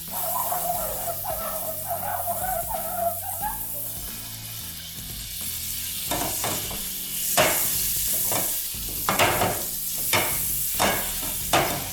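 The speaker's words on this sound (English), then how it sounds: "let's get a little butter in the pan here" Butter sizzles in a frying pan while something is stirred and scraped around, with a steady hiss under a run of louder clattering utensil knocks toward the end; no one speaks.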